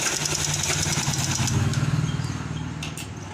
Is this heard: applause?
no